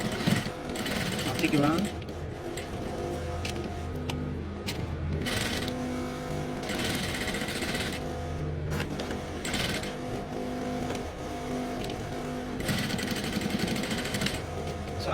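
Sewing machine top stitching around the edges of an invisible pocket, a rapid close mechanical whir running in bursts with short pauses at the corners, while someone talks over it.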